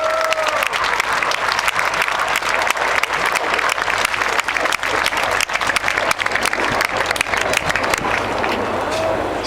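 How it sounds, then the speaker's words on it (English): An air show crowd applauds and cheers as a synchro pair completes a carousel manoeuvre, a dense, loud, steady wash of clapping that holds for the whole stretch. "give them a big cheer as they complete the carousel."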